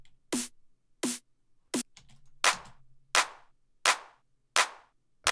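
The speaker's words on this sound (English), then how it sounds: "a short clap, and then a long clap, and together they kind of all layered up" Drum-machine clap samples layered with a snare in a happy hardcore beat: three short, sharp claps followed by five longer, decaying ones, evenly spaced and dry against silence.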